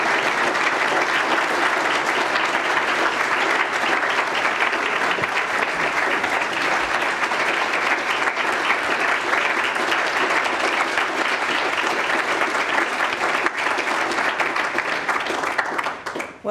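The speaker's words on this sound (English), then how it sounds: "Well, that was a rousing applause." A large audience at the National Press Club of Australia applauding after a formal address, loud, dense and sustained, filling the room evenly for over fifteen seconds before fading at the end.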